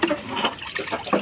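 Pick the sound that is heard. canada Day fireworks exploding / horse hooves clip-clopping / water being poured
water being poured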